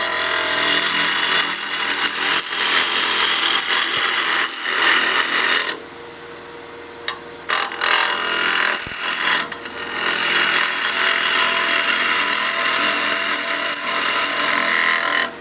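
A wood lathe spins a snowman oil candle blank at around 2200 RPM while a tool cuts it, producing a loud continuous rasping whir that drops away briefly near the middle before resuming.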